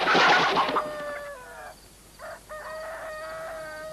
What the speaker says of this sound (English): You worthless chicken, what's the matter with you?